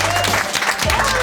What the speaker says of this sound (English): Round of applause for the 2 couples, please.